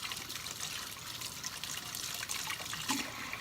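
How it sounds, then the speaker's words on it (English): Warm tap water runs steadily as hands are rinsed under it, a continuous close splashing stream with soft trickling variation and no voices. "After this, you wash the hands off with warm water."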